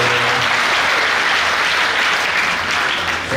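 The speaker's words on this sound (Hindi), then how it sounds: "आप लोगों ने जिस धैर्य के साथ सभी को सुना है, एक बार जोरदार तालियां" Loud, dense applause from the audience at a Hindi poetry gathering at VIT Bhopal, continuous clapping filling the whole stretch without speech.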